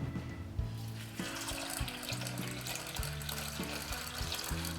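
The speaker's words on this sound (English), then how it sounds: "once we pour the water in" Water pours steadily into a container of soaking snow peas, a continuous filling gush with bubbling and splashing, close and moderately loud, with low tonal hum underneath.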